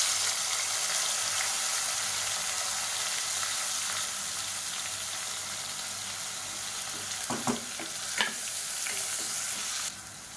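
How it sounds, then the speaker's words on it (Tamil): Long-sliced large onions sizzle and fry in hot oil in a pan for chicken kurma, a steady close hiss with a few clinks and stirring scrapes near the end. "இப்போ அதில் நீளமாக நறுக்குனா பெரிய வெங்காயம் சேர்த்துக்கலாம்."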